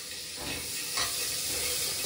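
Curry leaves hit hot coconut oil for a chicken curry base, giving a dense, close, continuous sizzle with a brief swell of crackling midway.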